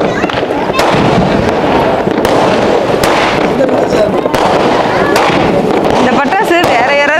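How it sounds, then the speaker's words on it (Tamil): Diwali fireworks and firecrackers burst close by in rapid succession, sharp cracks and pops over a continuous crackling roar, with people talking underneath. "இந்த பட்டாசு வேற யாராவது வச்சாதான் நம்ம நல்லா பார்க்க முடியும் போல"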